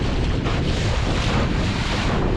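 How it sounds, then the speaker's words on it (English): Strong wind buffets and rough, choppy waves slap around a small Mirror sailing dinghy beating upwind on Lake Bala during a race. A continuous, loud roar of gusts and water fills the whole stretch with no talking. "Wow, we're hitting some rough seas."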